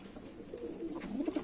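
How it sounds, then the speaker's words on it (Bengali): Lotan pigeons cooing softly nearby, a brief low warbling coo from the pair with faint ambient noise behind. "এই দুটোই লোটন পায়রা, দুটোই বাজি আছে"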